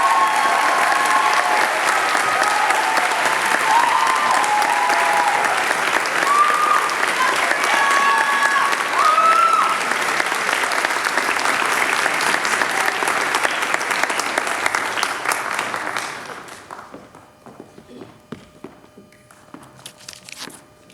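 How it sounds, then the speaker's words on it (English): Sustained audience applause at a school Awards Day ceremony for a student award recipient, a loud, dense crowd clapping that holds steady for about fifteen seconds before fading out. "Please join me in applauding Shreya Srihari"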